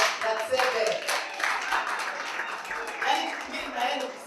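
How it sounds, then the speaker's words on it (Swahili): Audience clapping at an International Women's Day celebration, fairly faint and steady for several seconds, with voices mixed in. "Kwa makofi, hebu tuweze kumkaribisha Kato Ratsebe."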